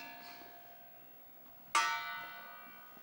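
A heavy metal object struck once, ringing out like an old church bell, a loud clang followed by a long, slowly fading metallic tone over quiet room noise.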